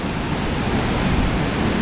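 Spray from the Jajce waterfall in Bosnia and Herzegovina, a steady, broad rushing hiss of falling and splashing water heard close by, continuous and even with no voices.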